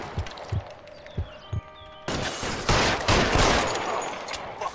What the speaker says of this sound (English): jetzt gibt's eine Schießerei hier.